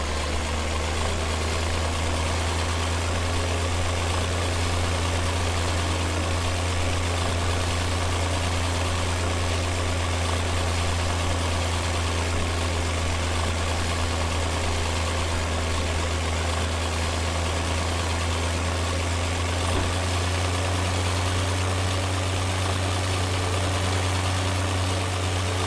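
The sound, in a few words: small tractor engine idling in Farming Simulator 17 video game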